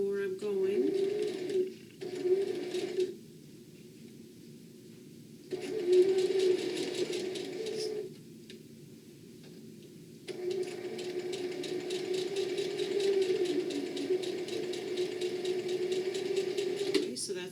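A sewing machine stitches a line along the edge of a bag in several bursts, whirring steadily and fairly quietly with brief pauses between runs.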